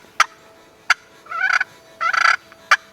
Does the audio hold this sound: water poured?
no